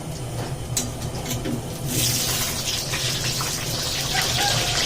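Water being poured into a pot while cooking at a small home feast, a loud continuous gushing stream that swells partway through, close and steady, with no clear speech.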